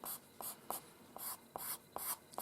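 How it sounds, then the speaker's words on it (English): A paper blending stamp rubs over pencil lines on drawing paper while shading white fox fur, giving soft, close, rhythmic scrubbing strokes in short bursts of about half a second, quiet and alone. "use the paper stamp again and blend these lines, blend over these lines once more"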